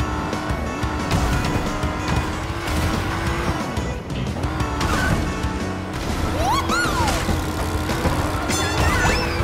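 Karts in Crash Team Racing Nitro-Fueled roar through a race with revving engines, rising and falling pitch sweeps, tire squeals and crash effects layered over game music, loud and continuous, with no speech.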